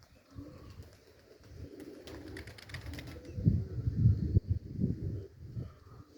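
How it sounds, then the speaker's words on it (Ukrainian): A flock of pigeons coos in soft, low repeated calls, with a brief burst of wing flapping, growing louder toward the end as the birds gather nearby. "все небо в голубах"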